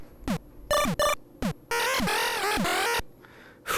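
An out-of-tune chiptune lead programmed in LSDJ on a Game Boy, using arpeggio and duty cycle modulation, plays short buzzy square-wave stabs and a longer sustained phrase with sour pitch bends, clear and alone.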